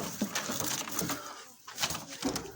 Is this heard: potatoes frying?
no